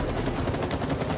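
Sustained rapid gunfire in It Takes Two as a barricade is blasted open, a loud unbroken stream of shots with no talking.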